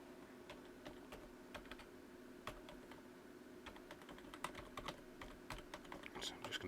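Keys clatter on a computer keyboard while an email address is typed during a Google account sign-in, a quiet stream of irregular close clicks with no voice.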